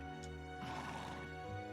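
A horse neighs in the video game Trails into Reverie, a harmonic whinny rising from the middle of the clip over steady game background music.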